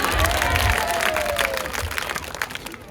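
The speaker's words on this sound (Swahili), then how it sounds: "Mpige Yesu makofi wewe" A church congregation at a sermon claps and cheers for Jesus: a brief burst of crowd applause that fades gradually over a few seconds.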